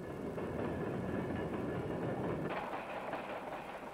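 An Alaska Railroad train rumbles steadily along the tracks with a continuous low roar and faint rhythmic clatter, loud and close, with no voices.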